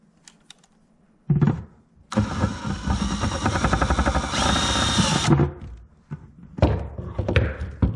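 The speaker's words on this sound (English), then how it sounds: "I'm using a stepper bit to get the job done." A power drill with a step drill bit whirs in short bursts, then grinds steadily through metal for a few seconds, drilling a hole, before winding down, close up and loud.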